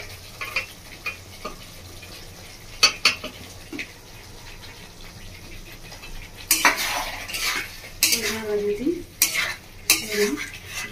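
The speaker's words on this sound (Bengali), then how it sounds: "ভালো করে কষিয়ে নেব।" Potatoes and carrots stirred into spices in a pan, a utensil scraping and clinking against the metal in bursts, louder toward the end, over a soft steady sizzle, with no talking.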